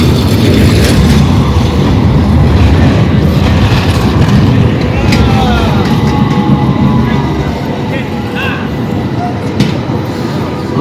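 Steady loud rumble of a tram rolling along rails in Istanbul, with faint squeals and clicks over the continuous roar.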